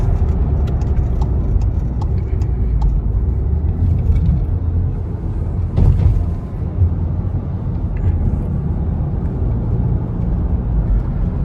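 A Seat Leon 1.2 TSI 110 HP with DSG gearbox drives on a sloping road, a loud continuous in-cabin engine and road rumble, steady throughout with a brief bump near the middle.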